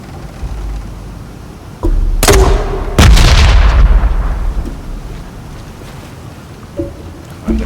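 A grenade goes off in Shadow of the Tomb Raider with a loud close blast, after a sharp preceding crack, leaving a long rumbling decay that fades over several seconds.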